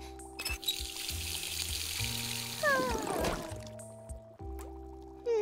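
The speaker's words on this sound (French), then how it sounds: "Peut-être qu'en rajoutant de l'eau chaude..." Hot water pours and fizzes into a foamy bubble bath, a steady splashing rush that rises midway, set among music and effects of an animated cartoon scene.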